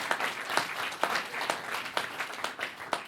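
A small audience at a club gathering applauds a guest being introduced, with fairly close, loosely rhythmic clapping in which individual sharp hand claps stand out at a steady pace over the whole stretch.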